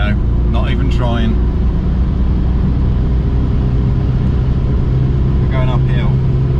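Skoda Estelle 120L (Type 742) engine droning loudly from inside the car as it pulls uphill, a steady low rumble with shifting pitch, and people talking briefly over it.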